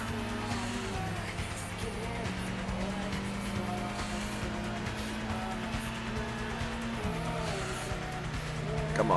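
Race car engine droning steadily through a Gran Turismo video game race, with tires squealing and skidding in the corners and a sharp rise in noise at the very end.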